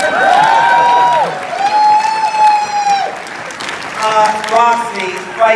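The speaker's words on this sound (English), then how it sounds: "Round of applause for our sign language interpreter." An audience at a live movie-debate show applauds for a sign language interpreter, loud clapping and cheering with a voice talking over it.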